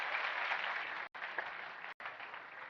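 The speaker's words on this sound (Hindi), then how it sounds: "हर उल्टी चीज में ताली बजाते हो." An audience in a hall claps together in sustained applause, with two abrupt cuts briefly silencing it.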